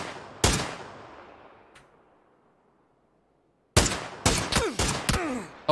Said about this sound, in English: someone else shooting at me